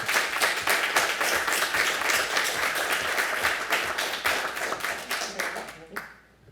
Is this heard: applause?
yes